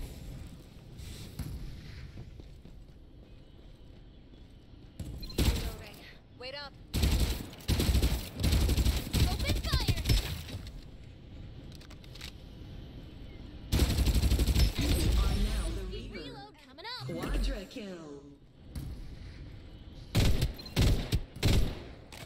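Bursts of gunfire from Farlight 84 ring out loud and close, with rapid automatic volleys and single shots clustered in several intense stretches and quieter gaps in between.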